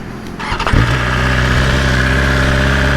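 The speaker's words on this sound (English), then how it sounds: "Starting this motorcycle up for the first time, you get a little bit of backfire." A 2020 BMW S1000RR sport motorcycle engine cranks and fires with a few sharp popping backfire bursts, then settles into a loud, steady, throaty idle close by.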